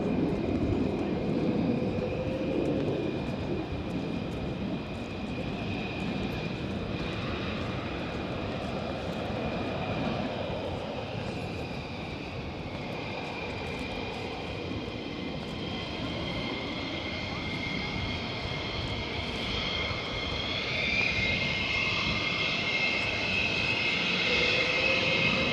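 A military jet climbs out from RAF Lakenheath, a loud, sustained engine roar that holds steady and then shifts in pitch as it gains altitude, with faint talk in the background.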